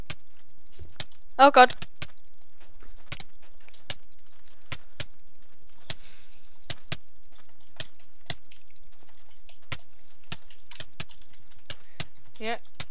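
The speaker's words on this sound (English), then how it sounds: "If you can hear how fast I'm clicking." Rapid, evenly spaced mouse clicks during Minecraft PvP tick throughout, sharp and close, with a brief exclaimed voice near the start and another short vocal sound at the end.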